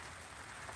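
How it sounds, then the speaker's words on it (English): Rain falls in a steady, soft hiss of countless tiny drops, faint and even with no other sounds. "So it's raining."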